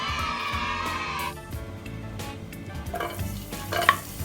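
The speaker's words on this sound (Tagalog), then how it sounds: "Gisahin ang mga sangkap." Vegetables for chopsuey sauté in a pan, with loud, close sizzling and frequent scraping and clacking of a utensil stirring them.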